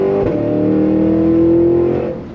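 A 2023 Cadillac Escalade-V performance SUV engine pulls hard under acceleration in second gear, its rising, droning tone holding steady before easing off at the end.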